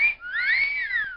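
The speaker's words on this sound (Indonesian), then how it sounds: "Itu adalah suara siulan." A person whistling a short, clear melodic phrase, with bright sliding tones rising and falling continuously for about a second, close and fairly loud with no talk.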